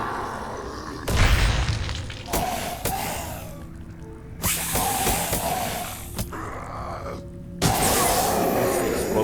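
Weapon proc explosion effect from the Night of the Dead video game, heard as several sharp booming bursts that cut in and decay, repeating through the stretch amid game sound.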